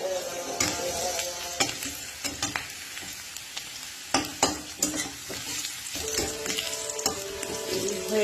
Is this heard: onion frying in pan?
yes